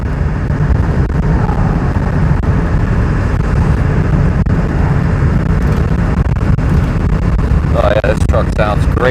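A high-mileage pickup truck with about 296,000 miles and a slight front-end clunk drives along a road, a steady loud engine and road rumble heard from inside the cab, with a person talking over it.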